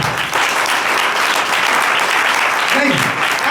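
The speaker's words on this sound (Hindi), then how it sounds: "अपने लिए जोरदार तालियां बजा दे" Loud, sustained applause from a church congregation at a New Year prayer service, steady throughout with dense clapping close by.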